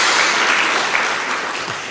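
A congregation in church claps together, a dense wash of applause that stays loud and steady for a moment.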